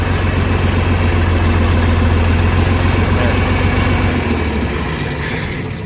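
A John Deere 4640 tractor engine idles steadily, a heavy low rumble that stays loud and even before easing slightly toward the end.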